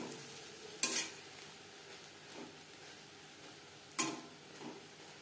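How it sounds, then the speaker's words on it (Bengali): Egg fritters fry in hot oil as a quiet, steady sizzle, with two sharp clinks of a utensil against the pan when the fritters are turned. No one speaks. "গোল্ডেন ব্রাউন করে ভেজে নেব।"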